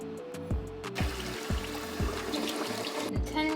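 Coconut water is poured in a thin, steady trickle into a container, with gentle gurgling and splashing close by, over a soft tonal backdrop.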